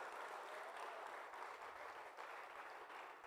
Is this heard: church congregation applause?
yes